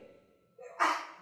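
A single sharp sneeze bursts out near the end after a quiet breathy lead-in, close and fairly loud in a church sermon setting.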